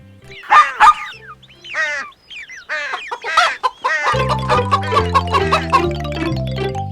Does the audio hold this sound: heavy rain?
no